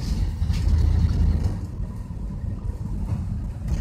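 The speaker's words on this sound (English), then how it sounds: "It don't sound as loud as it did now since we hooked up the exhaust." A short school bus engine idles with its newly fitted exhaust, a steady low rumble that stays close and constant throughout with no talking.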